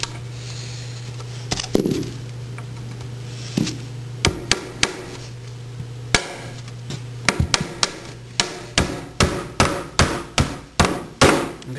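Nails are hammered into hardwood floor boards close to the board edge: a run of sharp, ringing strikes that grow quicker and more regular toward the end, over a steady low hum, with no talking.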